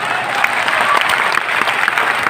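An audience at a business training event claps steadily at moderate loudness, a dense crackle of many hands running throughout without talk.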